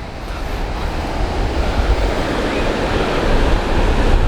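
Sea waves wash onto the shore at Colva Beach in South Goa, a loud, steady roar of surf that builds slightly, mixed with some wind buffeting.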